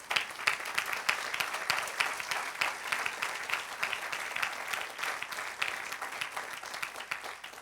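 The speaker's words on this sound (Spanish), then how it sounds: "Dale un aplauso al Señor" Church congregation applauds during a sermon, a steady, fairly faint roomful of many hands clapping with distinct sharp claps popping through for the whole stretch.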